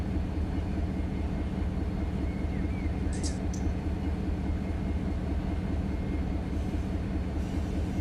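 A road train rolls through a misaligned switch in the Run 8 Train Simulator game, a steady low rumble of wheels and locomotive with brief faint clicks and squeals.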